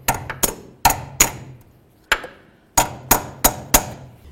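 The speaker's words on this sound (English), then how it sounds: "make sure that I pin it over so there's no way that the cotter pin can come out" Sharp metal taps, apparently a hammer, bend over a cotter pin on a steering linkage: about ten crisp close strikes in uneven groups with short pauses between.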